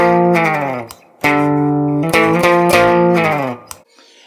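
A distorted electric guitar plays sustained, vocal-like notes with a talkbox effect, phrases separated by brief gaps, loud and close.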